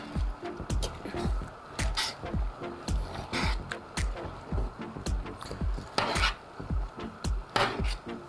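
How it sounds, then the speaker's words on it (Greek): Spinach, rice and other ingredients stirred in a pot with a wooden spoon, giving a steady rhythm of scraping, knocking strokes, near and moderately loud, with no talking over it. "Το ανακατεύω και να πάνε όλα τα υλικά μαζί με το σπανάκι να αδελφώσουν."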